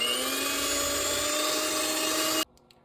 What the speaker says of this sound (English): Using a hand electric mixer, blend on low for about a minute.